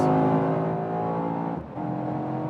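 Mercedes-AMG E63 S facelift sedan accelerating hard on the road, a loud harmonic engine roar heard from inside with a brief dip like a gear shift before the note climbs again.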